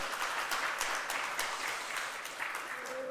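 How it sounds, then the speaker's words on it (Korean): A Sunday worship congregation claps in welcome for a visiting deacon, a soft, steady patter of many hands heard from a distance that fades a little toward the end. "우리 같이 한번 환영의 박수 한번 해주시면 감사하겠습니다."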